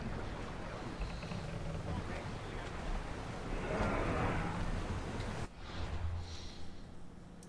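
A sailing ship at sea in the video game Assassin's Creed Odyssey: steady broadband wash of wind and water with a swelling surge midway, a sudden drop near the end, then quieter ambience, heard behind the game's audio.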